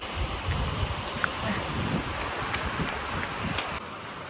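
Steady rain falls in a mountain valley in the Madhyamaheshwar area, a continuous dense hiss with scattered drop patters and no voices, holding at an even level throughout.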